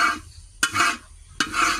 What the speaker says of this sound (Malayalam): ഇങ്ങനെ ഇളക്കിക്കൊണ്ടേ ഇരിക്കണം, അല്ലെങ്കിൽ അടി ഭംഗിപ്പോയി കഴിഞ്ഞാൽ കരിഞ്ഞു പോകും